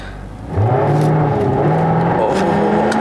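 A Jaguar F-Type R pulls away hard in first gear from a stop, its engine note rising loudly and steadily after a quieter idle, with the rising harmonics climbing through the pull.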